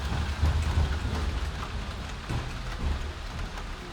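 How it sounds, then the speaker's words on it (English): Steady, dense rain pours down throughout, with low rumbling underneath that suggests distant thunder in a storm. "Maybe the rain would slow."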